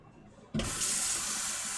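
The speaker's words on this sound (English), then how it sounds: "I'm going to add another cup of water to this" Water pours steadily into a rice mixture for veggie burgers, a sudden strong rush that starts after a brief quiet moment and keeps running evenly to the end, close and loud.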